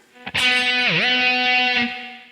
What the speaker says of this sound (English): then use the whammy bar to get that second note